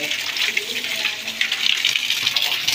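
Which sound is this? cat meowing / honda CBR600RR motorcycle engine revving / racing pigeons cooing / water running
water running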